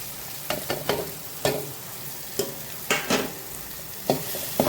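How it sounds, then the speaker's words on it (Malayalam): Tomatoes frying in a pan with spice powders for a soya masala curry, a steady sizzle broken by repeated stirring scrapes, close and fairly quiet. "ആ പച്ചമണം പോകുന്ന വരെ നല്ലോണം നമുക്കിത് ഫ്രൈ ചെയ്തെടുക്കാം."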